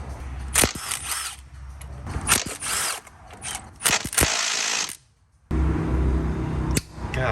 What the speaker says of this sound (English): You're gonna need an 8mm Allen socket to remove them.